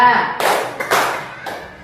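Two sharp hand claps in a counting clap routine tied to daily prayer times, loud and close, spaced apart, with a voice speaking in the quieter gaps.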